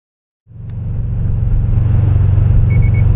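A car driving with its carbon fiber hood removed: the engine starts up and settles into a steady, loud, close rumble that builds slightly and holds, with a faint beep near the end and no talking.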